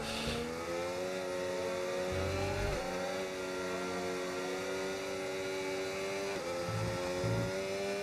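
A race car engine in an F1 video game revs high and steady, pitch climbing and dropping with gear changes, loud and continuous with no one talking.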